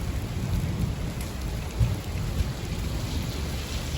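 Heavy rain pouring steadily during an evening storm, a dense close hiss of drops on surfaces with a couple of low rumbles of thunder, no voices.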